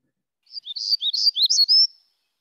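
Black-throated gray warbler song: a single quick series of buzzy, wheezy notes rising to a sharper final note, clear and close, heard alone against silence.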